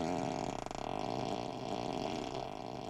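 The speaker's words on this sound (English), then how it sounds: "Then you've got Ludicrous Fart." Ludicrous Fart, a novelty flatulence sound effect played by a Tesla Model 3, gives a loud, continuous wet, rumbling blast that fills the whole span with no talk over it.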